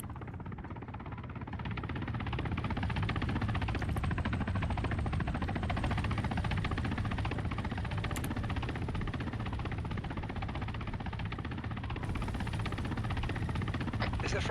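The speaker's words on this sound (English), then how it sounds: "Please tell me that chopper above me is friendly." A military helicopter flies overhead in the Arma 3 combat game, producing a steady, moderately loud rotor and engine drone that swells after the first couple of seconds and holds evenly to the end.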